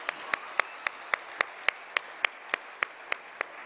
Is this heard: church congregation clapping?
yes